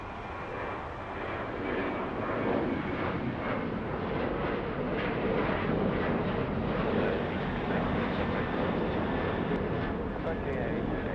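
A heavy Boeing Dreamliner jet departs LA with a broad, steady engine roar that holds near-constant loudness, while voices talk over it the whole time.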